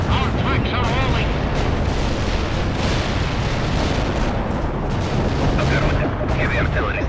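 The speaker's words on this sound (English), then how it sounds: "Heavy artillery strike fire." Heavy artillery strike in World in Conflict: a dense, continuous roar of shelling and blasts fills the whole stretch, loud and sustained, with radio-style voices talking over it.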